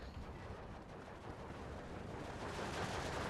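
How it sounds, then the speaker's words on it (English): Sustained heavy automatic fire from a .50 cal machine gun in the Steel Division 2 war game, a dense continuous roar of rapid shots with battle noise throughout, steady and loud for the whole stretch. "M8's getting held up because the 50 cal shooting into the sky"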